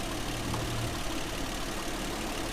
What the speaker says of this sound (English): So the engine sounds good.